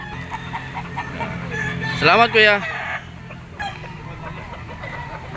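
A yellow-legged gamecock crows loudly nearby at a poultry auction market in Lipa, a strained rising-and-falling call, with soft clucking and someone speaking briefly around it.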